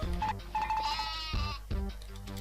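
A sheep bleats twice in quick succession, loud and close, with a steady synthetic backdrop of game music behind it, from the video game Worms 3D.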